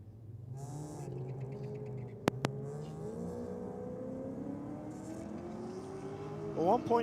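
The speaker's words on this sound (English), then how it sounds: "As the Honda comes out in the Aeroflow lane, about to take on this nitrous assisted Commodore." Drag race launch at Sydney Dragway: a Honda Civic lines up against a nitrous-assisted Holden Commodore, with steady engine drone and rising revs under continuous commentary, building to a louder surge near the end.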